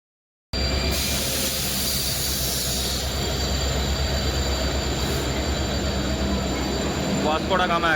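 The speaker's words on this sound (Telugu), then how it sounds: "గైస్ ఫైనల్లీ మన ట్రైన్ అయితే వచ్చేసింది అనమాట. డీజిల్ లోకోమోటివ్తో అయితే వస్తుంది" The Vasco da Gama–Secunderabad Express pulls into a station behind a WDP-4D diesel locomotive, with a steady rumble of rolling wagons and faint wheel squeal building near the end.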